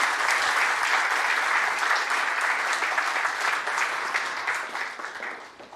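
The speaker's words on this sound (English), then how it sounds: "Let's give them a huge round of applause" An audience at an international investment summit gives a panel a dense, sustained round of applause that fills the hall evenly, then tapers off toward the end.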